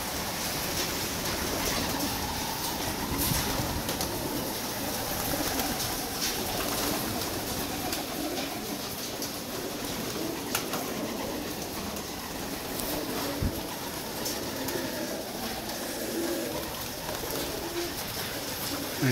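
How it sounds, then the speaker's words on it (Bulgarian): Pigeons coo softly in the distance over a constant rushing outdoor background, with occasional faint clicks and knocks. "Ето ги гълъбчетата,"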